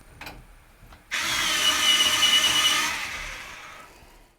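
Colored pencil being sharpened in a sharpener, a steady close grinding whir lasting about two seconds after a couple of faint taps, fading away at the end, with no talk.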